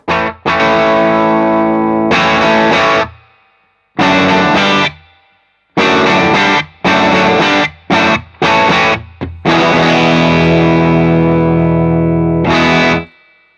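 An electric guitar played through an analog pedal set for a classic Plexi amp tone, with amps running loud in a room: thick, distorted chords ring out in bursts and short stabs, separated by brief silences, ending on a long sustained chord.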